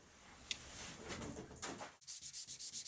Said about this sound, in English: I feel it's always good to roughen up the coroplast before applying tape